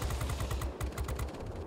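Rapid aircraft cannon fire from a Ki-93 heavy fighter in World of Warplanes, fast steady rattling bursts with a brief gap partway through, continuous and close with no talk.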